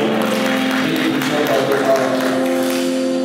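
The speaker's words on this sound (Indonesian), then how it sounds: "Beri tepuk tangan" Church congregation applauding during a worship service, a steady wash of hand claps under sustained organ or keyboard tones and a faint murmur of voices.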